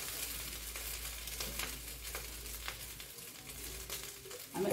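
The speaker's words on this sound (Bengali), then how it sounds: "এটাকে প্রথমে চালটাকে ভালো করে ভেজে নেব।" Rice frying in ghee in a kadai for vegetable fried rice, a steady close hiss and sizzle with soft scraping and stirring throughout, swelling louder at the very end.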